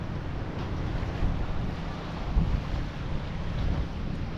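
Wind and waves along a seashore at a getaway spot, a constant low rumble of wind buffeting the microphone over a soft wash of surf, with no voices.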